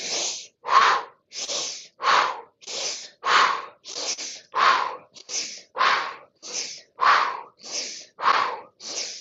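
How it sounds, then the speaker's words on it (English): Deep, forceful breaths during a breathwork exercise, about fourteen loud rushing bursts of air in a steady rhythm with brief gaps between them, close to the mic and with no talking. "Big inhale. Exhale everything out."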